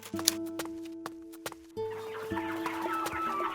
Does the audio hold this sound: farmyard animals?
yes